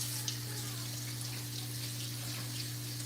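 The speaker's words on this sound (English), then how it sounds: "I need to wash my hands because of the jalapeno I cut." Tap water runs steadily into a sink while hands are washed, a continuous close-up splashing hiss with a low hum underneath and no talking.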